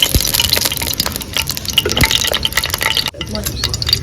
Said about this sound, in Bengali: কড়াইতে আমি তেল ঢেলে দিচ্ছি।